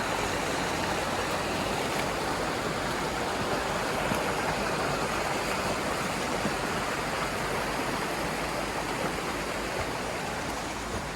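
A clear river flows past in a constant, close rush of water, steady and fairly loud throughout with no voices.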